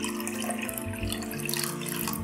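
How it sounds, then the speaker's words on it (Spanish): Tap water pours steadily into a cooking pot holding white beans, a continuous splashing gush that stays close and even throughout, with no talking. "aquí he puesto 1 litro de agua,"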